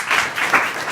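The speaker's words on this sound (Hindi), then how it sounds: "आपने कोशिश की इसके लिए जोरदार ताली बजाओ।" Schoolchildren at a school applaud, a short burst of dense, close clapping from a group.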